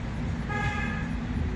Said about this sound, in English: there's honks of encouragement